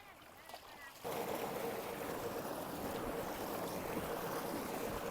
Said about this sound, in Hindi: ये देखिए ढलवान बनी हुई है जिससे नीचे पानी जा रहा है